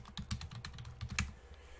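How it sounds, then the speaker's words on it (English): A computer keyboard clatters close by as a chat message is typed, a quick irregular run of light key clicks over a couple of seconds. "I'm going to type something in."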